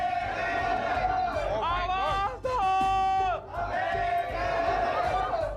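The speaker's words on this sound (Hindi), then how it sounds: "बाहर कोई मोर्चा जा रहा है क्या?" A protest crowd outside an office shouting slogans in unison, loud, drawn-out chanted cries repeating in waves with a rough babble of voices beneath.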